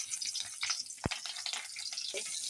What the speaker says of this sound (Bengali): লঙ্কা ভেঙে লঙ্কা এখন তেলে দিয়ে দিলাম